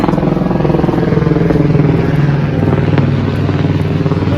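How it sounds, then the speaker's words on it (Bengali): Near a gondola ride in a cold, icy mountain area, a helicopter passes overhead, its loud rotor beating in a steady, rapid pulse throughout, with no speech. "উপরে হেলিকপ্টার চলছে।"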